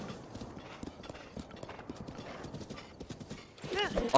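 Horse hooves clip-clop in a steady rhythm in the video game The Legend of Zelda: Breath of the Wild, moderately close, with a horse whinnying near the end and someone talking over the gameplay.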